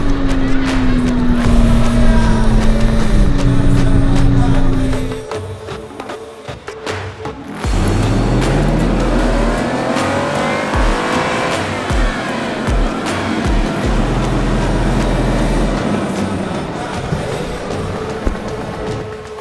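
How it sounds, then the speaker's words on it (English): Toyota truck climbing a snowy mountain hill, its engine droning loud and close with rising and falling pitch as it shifts and strains, a brief lull midway before the engine pulls again under occasional clunks. "I took lead again and just kept hucking this Toyota up this hill"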